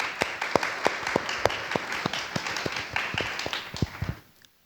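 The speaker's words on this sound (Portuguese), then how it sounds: "Palmas para a Bibi, pessoal." Audience applauding a panelist named Bibi at a talk on AI, with distinct individual claps audible in a sparse, fairly close round that thins out and stops near the end.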